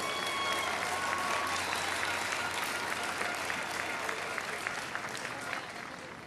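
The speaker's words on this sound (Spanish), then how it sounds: "Otro aplauso." A large crowd at the opening of World Youth Day in Panama breaks into sustained, dense applause that rolls on steadily and fades slightly at the end, heard from within a vast gathering.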